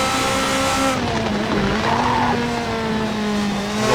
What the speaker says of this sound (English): A little bit of a lock up almost there. Took that braking too late.